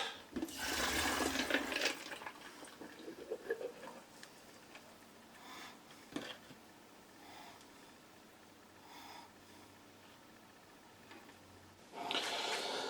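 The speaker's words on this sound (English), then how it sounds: "I'm going to have to empty some water out of this jug" Water emptied out of a jug used for soaking tree seeds: a splashing pour at the start, a quieter stretch of faint trickles and room noise, then a second splashing pour at the end, with no talk.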